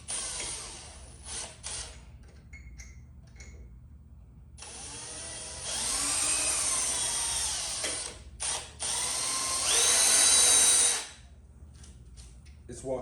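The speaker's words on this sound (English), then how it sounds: "I'm not going to tell you guys how to use a drill, but essentially I start slow" A power drill bores holes into a Honda Integra's metal radiator support, with short bursts followed by long whining runs that rise in pitch as the motor speeds up. The drilling is loud and close, separated by brief pauses.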